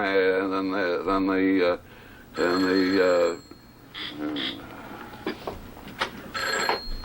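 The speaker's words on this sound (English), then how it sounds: "I told you not to ring this phone." A telephone rings loudly in two long bursts near the start, then stops, leaving quieter background sounds and voices.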